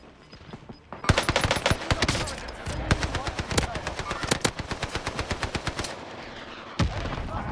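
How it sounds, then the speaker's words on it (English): Automatic gunfire in the video game Call of Duty: Modern Warfare rattles in dense rapid bursts, loud and sustained, with single shots cracking before and after the long volley. "They're shooting over there."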